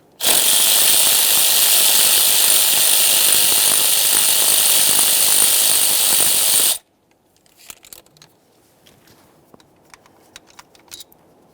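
Power ratchet or cordless driver backing out the 8mm ignition coil mounting bolt on a 2015-2020 Ford F-150 3.5L V6, a loud steady whir lasting several seconds, then the bolt and tool clinking and rattling quietly.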